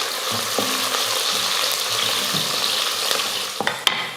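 Onions sizzling as they sauté in a hot pan, with occasional scraping stirs and clinks, steady and close, with no voices.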